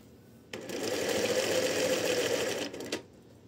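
A sewing machine runs in one steady burst of about two and a half seconds, stitching a sewn basket lid. The motor whirs loudly and evenly, then stops, with no talking.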